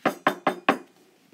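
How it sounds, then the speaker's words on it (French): Four quick knocks on the door of a wooden house, evenly spaced and close, then silence. "elle frappe à la porte"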